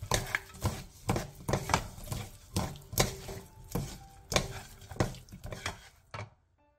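Burdock stir-fry tossed with perilla oil and sesame seeds in a pan: a run of close, rhythmic clinks and scrapes from a utensil, fairly even in pace, then a short stop into silence.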